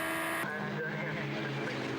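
Radical race cars circulate at Castle Combe circuit, their engines a faint, distant droning whine that shifts pitch abruptly early on as a car passes, then continues as a busy blended hum.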